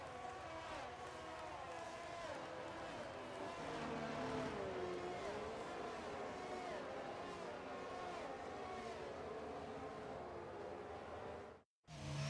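Race cars in the F1 22 video game on the formation lap of the Hungarian Grand Prix, a steady drone of engines with shifting whine, heard under continuous commentary, cutting out briefly near the end.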